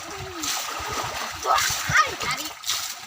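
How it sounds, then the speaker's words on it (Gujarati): Water splashes and gurgles as it is poured onto a lemon plant in a small pot at a village farm, in irregular bursts under a child's and adults' talk. "તો ચાલો આપણે લીંબુડીને પણ પાણી આપી દઈએ"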